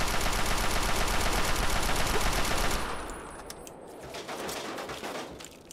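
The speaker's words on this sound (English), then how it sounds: "You're shooting at me." Rapid automatic gunfire rattles loud and dense in Fallout 3's Anchorage, a sustained burst that cuts off about halfway, leaving scattered quieter shots and ambient noise.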